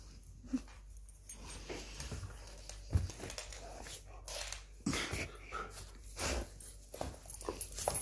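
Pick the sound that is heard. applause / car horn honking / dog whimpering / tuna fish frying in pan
dog whimpering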